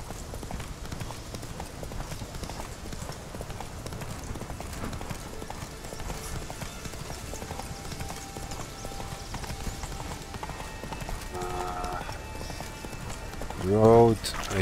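Roach the horse gallops in The Witcher 3: Wild Hunt, a fast, steady run of clip-clop hoofbeats over a constant ambient bed, with a short louder vocal burst near the end.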